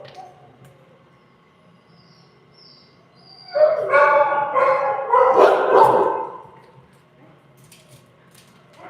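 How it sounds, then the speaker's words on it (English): A husky in a shelter kennel lets out a close, loud burst of yipping, howl-like barks for about three seconds, with quiet background before and after. "There's a husky right here."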